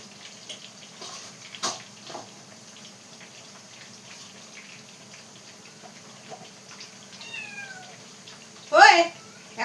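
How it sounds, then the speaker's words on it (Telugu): A cat meows indoors, one rising meow followed shortly by a louder, closer meow near the end, over a quiet background with faint knocks. "ఇక్కడ వస్తుంది పిల్లి, చూసారా?"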